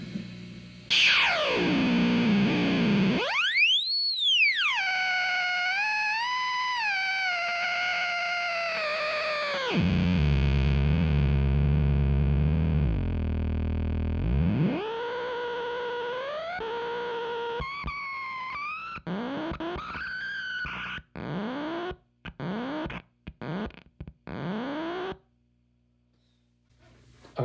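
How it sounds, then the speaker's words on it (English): A cold germanium fuzz pedal, a noisemaker-style effect, squeals and oscillates with swooping pitch sweeps, long sustained howls and choppy stuttering bursts that cut in and out, loud and with no talking. "how this thing starts to squeal when it's cold, because it's really a noisemaker kind of pedal"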